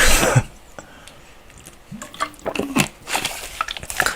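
Someone drinks water close to the microphone, with wet sips, swallows and small liquid clicks in an irregular rhythm, loud and alone with no talking.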